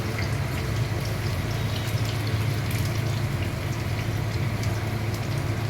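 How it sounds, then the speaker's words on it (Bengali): Pieces of chitol fish frying in hot oil, with a steady, dense sizzle and crackle running continuously at close range. "এইবারে আমি মাছগুলোকে ভাজবো।"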